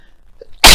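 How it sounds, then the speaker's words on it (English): A single sudden sneeze bursts out at close range after near silence, loud and brief at the very end. "Excuse me, I just felt that sneeze come on."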